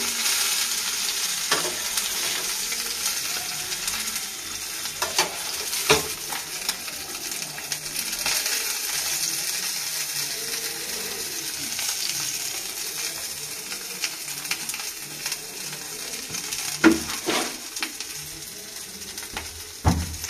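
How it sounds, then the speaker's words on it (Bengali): Bata fish fries in a pan with a steady broadband sizzle and crackle that runs the whole time, broken by sharper pops and a few louder spatters near the end, no voices. "মাছের ফ্রাইটা হয়ে গেছে"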